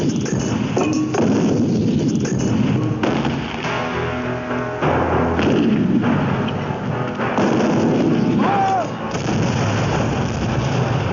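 First World War artillery guns fire in a heavy bombardment, a loud, dense run of booming blasts that rumble and overlap for the full stretch, with more distant reports in between.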